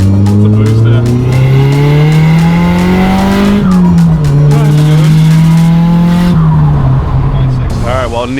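Nissan Silvia S15 fitted with an external wastegate, engine loud and close as it revs through rising and falling pulls with tyre noise, a voice talking over it.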